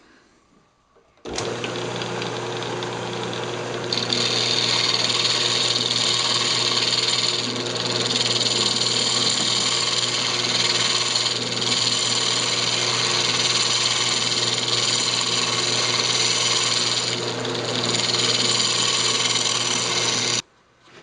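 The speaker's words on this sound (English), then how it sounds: "it's actually just a round nose scraper too, just a very small one" A small round nose scraper cuts a yew wood box spinning on a lathe, giving a steady, loud scraping whine over the motor hum that runs unbroken for about twenty seconds.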